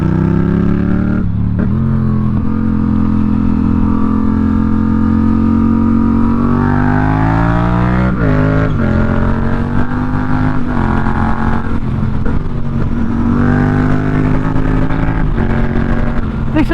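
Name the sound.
Yamaha MT07 motorcycle engine while riding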